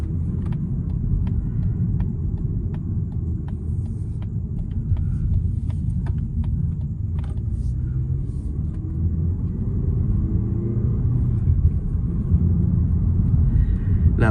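A 2025 Mazda 3 Hatchback with a naturally aspirated engine and manual gearbox accelerates, a steady low engine drone with rising road rumble heard from inside the cabin, with faint ticking clicks early on.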